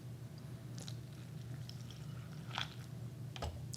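Sour Patch Kids cereal with milk being chewed up close, soft crunchy bites repeating irregularly over a quiet, low background hum.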